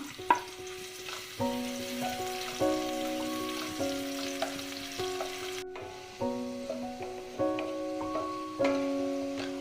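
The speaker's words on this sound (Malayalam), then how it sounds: "ഇനി ഇതിലേക്ക് ഗാർണിഷ് ചെയ്യാൻ എടുത്തു വച്ചിരിക്കുന്ന ഒരു സവാള ഇതിലേക്ക് ഇട്ട് കൊടുക്കാം. അതും കൂടി ഒന്ന് ഫ്രൈ ചെയ്തെടുക്കാം." Sliced onion fries in hot oil for a fish biryani garnish, a soft sizzle with stirring, joined by a steady plinking melody of background music.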